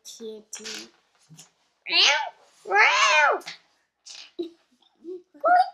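A voice imitates a cat, letting out two long, rising-and-falling meows between short bits of other vocal sounds.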